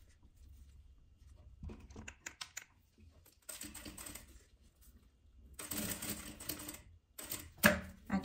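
A sewing machine stitches fabric with a zipper in short runs of fast, light mechanical ticking, separated by pauses as the work is turned, close and fairly quiet.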